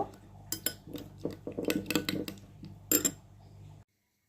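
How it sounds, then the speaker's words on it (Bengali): An egg is whisked in a bowl with a utensil: a close run of quick, irregular metallic clinks and scrapes against the bowl, building in the middle with a sharp burst near the end, then cutting off abruptly. "ডিমটা খুব ভালো করে ফেটে নেব"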